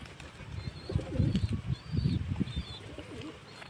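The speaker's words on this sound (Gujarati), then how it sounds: "આ કબૂતર ભેગો આવી રહ્યો અને એની જોડી પણ લાગી ગઈ છે" Domestic pigeons, a pair kept in a loft, give soft low cooing in repeated bursts alongside wing flaps, fairly close and moderately loud throughout with no talking.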